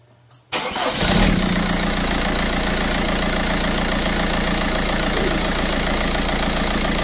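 A Toyota Tacoma fitted with a TDI diesel engine cranks and fires after a brief silence, then settles into a steady, loud, clattering idle that runs on unbroken and close by.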